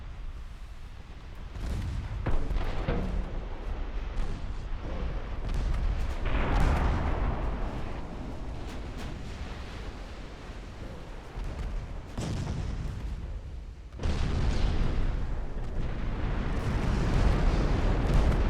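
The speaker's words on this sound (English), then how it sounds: "Got lots of torpedo hits out of that." Torpedo hits exploding on warships in the naval battle game Ultimate Admiral Dreadnoughts, set in 1913 against the Roman fleet: a long stretch of deep rumbling blasts and booming detonations, with sharper bursts breaking through a continuous low roar of battle.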